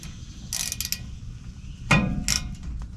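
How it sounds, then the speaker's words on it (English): A socket wrench clicks in a few short bursts of ratcheting on the front bumper bolts of a 1977 Power Wagon truck, close by, with quiet gaps between the bursts. "See if I can get a socket wrenching on there"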